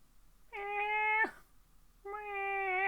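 A human voice imitates a cat's meow, giving two drawn-out, nasal meows separated by a short pause, close and clear against near silence.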